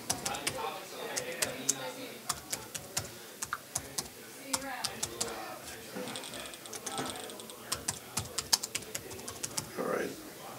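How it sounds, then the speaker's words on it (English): Quick, uneven clacking of a computer keyboard being typed on in a committee meeting room, the keystrokes fairly close and continuous, with occasional quiet voices in the background. "while I was typing away here."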